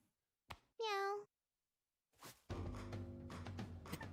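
Brief meow calls from cats in the video game Mewgenics: a short click, then a clear rising tonal meow, followed after a pause by a denser, sustained buzzing game tone layered with further sounds.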